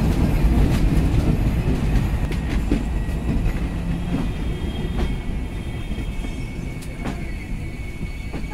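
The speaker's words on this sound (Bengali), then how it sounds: "আমাদের ট্রেন এসে থেমে গেল চুয়াডাঙ্গা রেলওয়ে স্টেশনে" The Kapotaksha Express train pulls into Chuadanga railway station with a loud low rumble and clattering wheels that gradually ease, with scattered clanks and a faint squeal of braking wheels, heard from on board.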